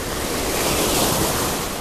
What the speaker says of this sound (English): Things will get taken from you with the waves.